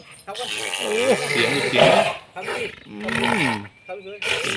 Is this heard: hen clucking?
no